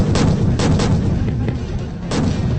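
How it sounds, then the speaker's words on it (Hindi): Indian Army artillery cannons fire in a sustained roar, with heavy booming blasts that keep overlapping. Several louder thumps stand out above the continuous rumble. "जमीन पर गरजी तोप"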